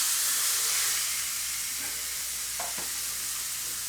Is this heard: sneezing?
no